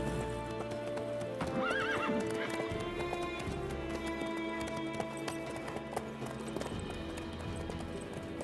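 Horse hooves clip-clop steadily at a trot in The Witcher 3, with a whinny early on, fairly quiet against a continuous musical background.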